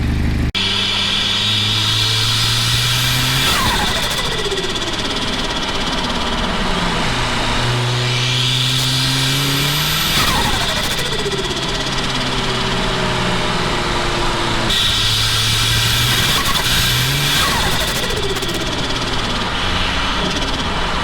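A Mazda RX7 fitted with an OM606 diesel engine and a turbo runs steadily while warming up, a loud, close drone whose pitch repeatedly rises and falls in long sweeps, with no voices.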